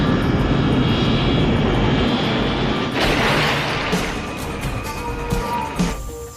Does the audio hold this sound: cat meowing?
no